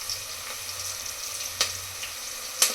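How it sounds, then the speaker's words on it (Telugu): Sliced onions, green chilies and curry leaves frying in hot oil in a pan, a steady close hiss with a few sharper crackles and pops standing out. "ఇవి కొంచెం గోల్డెన్ బ్రౌన్ కలర్ వచ్చే వరకు ఫ్రై చేయాలి ఫ్రెండ్స్"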